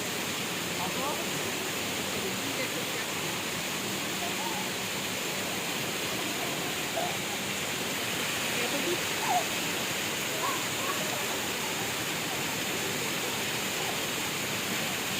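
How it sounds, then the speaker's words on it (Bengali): A waterfall at the Rock Garden in Darjeeling roars steadily and continuously throughout, a dense rushing wash of water with no breaks. "এটা ঝর্ণাটাই স্পেশাল ওই ঝর্ণাটা ভালো ঝর্ণা"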